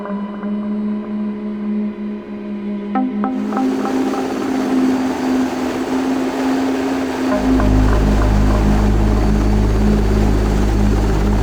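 MH-60R helicopter lifting off the flight deck of the cruiser USS Port Royal at night in a flight simulator game, a loud continuous rotor and turbine roar whose low-frequency throb deepens and grows heavier partway through.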